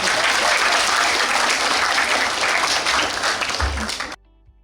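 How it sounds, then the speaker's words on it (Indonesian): A student audience breaks into loud, dense applause at a campus reserve-component recruitment session, sustained clapping that runs for about four seconds before cutting off abruptly into near silence. "Tepuk tangan dulu."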